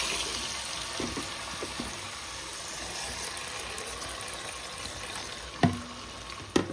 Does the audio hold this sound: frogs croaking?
no